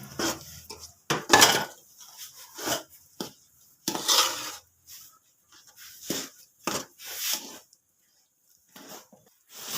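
A spoon scraping and clattering against a pan while a rice flour mixture for chawal ke ladoo is stirred, in irregular bursts of close metallic rubbing with quiet gaps between.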